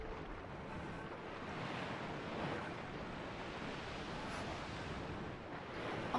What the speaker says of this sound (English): Ah, the sound of the waves is so soothing.